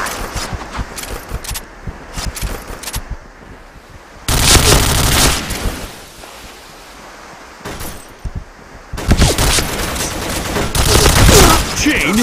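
KRISS SV submachine gun fire in the Point Blank shooter game, long loud automatic bursts of rapid shots in two main stretches with scattered shorter shots between them, close and dense.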